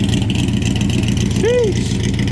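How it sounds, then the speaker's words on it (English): A supercharged Chevrolet Corvette C3 with an automatic transmission rolling out of a car meet, a steady throaty engine rumble with a brief rising whine, under excited talk. "Big blower C3 rolling out."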